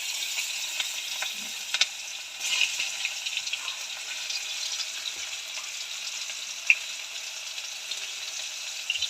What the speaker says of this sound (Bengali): এই ফোড়ন দিলাম বন্ধুরা, এই চুনো মাছটা রান্না করবো।